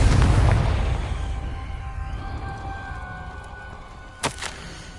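In Hogwarts Legacy, a Confringo blasting spell sets off a booming explosion that rumbles and slowly fades, followed by a short sharp crack near the end.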